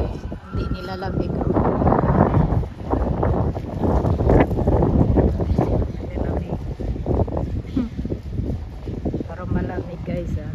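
Strong, cold wind buffets the microphone outdoors on a UK street corner, a steady loud roar with gusty rumble throughout, with children playing and voices talking underneath.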